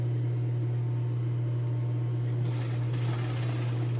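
A sewing machine stitches the shoulder seams of a women's blouse, the front folded about a centimetre over the back, giving a steady close mechanical whir that grows slightly busier and louder partway through.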